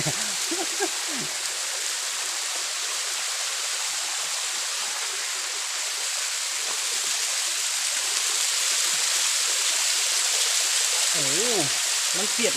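Steady broadband rush of water at a Thai waterfall, loud and continuous throughout, with brief voices and chatter at the start and near the end.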